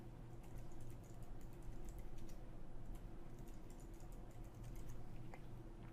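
Quiet, steady typing of a password on a computer keyboard during a macOS setup inside a virtual machine: many soft, closely spaced key taps over a constant low background hum, with no speech.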